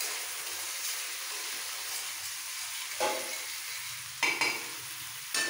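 Pav bhaji mixture stirred in a hot pan: a soft, continuous sizzle with a few sharp scraping strokes near the end, close but fairly quiet.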